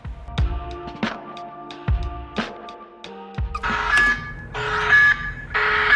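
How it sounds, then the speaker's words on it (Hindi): An alarm clock rings with a run of sharp, repeated electronic tones, starting as spaced beeps and then turning into denser, brighter bursts of sound, close and fairly loud with no voices. "अब अलार्म है"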